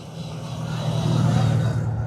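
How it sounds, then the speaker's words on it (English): Drift car with straight-cut gears and a full sequential gearbox, its engine droning steadily and swelling slightly as it revs, a loud continuous mechanical roar with gear whine. "You can hear the straight cut gears as well, bro. Full sequential, man, that's killer."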